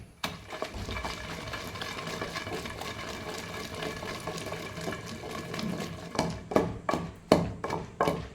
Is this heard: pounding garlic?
yes